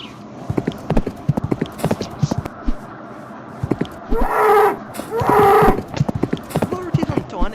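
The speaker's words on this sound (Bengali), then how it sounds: "গরুটি কিন্তু অনেক জোরে জোরে ছুটছে।" A rapid string of galloping hoof clip-clops from an angry cow running fast in a cartoon video game, broken by two sustained lowing moos, close and loud.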